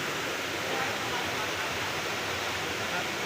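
Steady broadband rush of river water flowing at a village riverbank, constant and fairly loud throughout with no talk, the sound a shallow stream makes when water is low.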